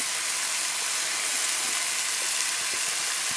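Turkey medallions sauté with vegetables in a pan, a steady close sizzle and frying hiss with faint stirring ticks throughout, ending on a short knock.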